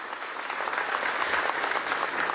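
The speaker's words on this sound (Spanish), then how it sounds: "un aplauso a nuestra Fuerza Armada Nacional Bolivariana" Sustained crowd applause at a Venezuelan government event at a cacao factory in Charallave, honouring the Bolivarian National Armed Forces; dense, steady clapping throughout, fairly loud and without talk.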